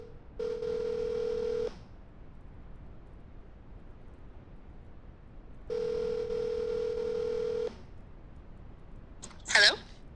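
A telephone rings back on an outgoing call, two long steady ring tones separated by a pause, followed by a brief voice at the end.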